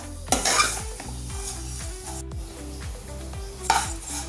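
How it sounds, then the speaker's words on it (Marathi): Wheat vermicelli roasting in ghee in a pan, a metal spoon scraping and clanking against the pan in a steady repeated stirring rhythm over a soft sizzle, with a couple of sharper knocks. "आपल्या शेवया छान रोस्ट झाल्यात तुपामध्ये"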